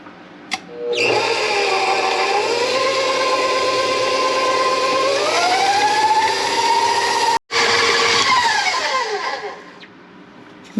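An electric mixer creams butter and sugar for pecan sandies cookie dough, a loud steady motor whine whose pitch shifts up and down, with a brief cut-out before it winds down.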